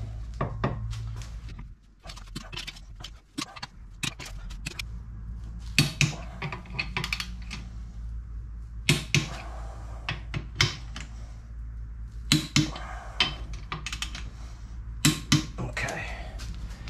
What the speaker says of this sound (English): Torque wrench out.